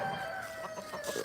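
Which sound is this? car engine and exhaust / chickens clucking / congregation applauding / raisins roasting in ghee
chickens clucking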